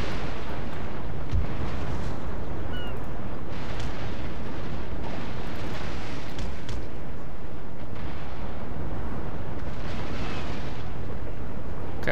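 Naval broadside cannon fire in Napoleon: Total War, a continuous rumbling roar of distant booming shots rolling over one another, loud and dense throughout.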